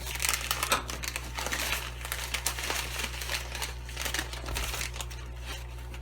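A deflated plastic fish shipping bag holding live koi swordtails crinkles and crackles close up as it is handled during an aquarium unboxing, with a low steady hum in the background.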